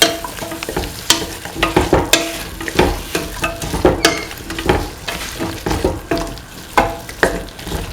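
Green and red chilies being stirred in a hot pan for a pumpkin and ivy gourd stew, with steady frying sizzle and repeated sharp scrapes and clatters of a spoon against the pan, close and fairly loud.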